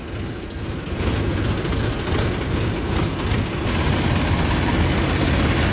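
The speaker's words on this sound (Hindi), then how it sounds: "चल पड़ी है ट्रॉली, बुग्गी इधर चल रही है, ट्रॉली इधर चल रही है।" A tractor, such as a black TAFE 25 DI, hauling a sugarcane trolley toward the sugar mill, giving a steady loud low engine rumble and rattling drone throughout, no talk.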